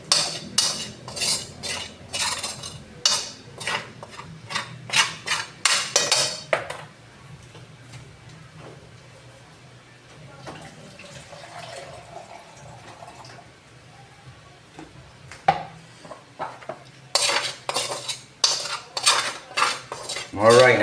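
A metal spoon scrapes and clinks against a pan while flour toasts on the heat, rapid bursts of stirring that pause for a stretch of quiet sizzle, then start up again.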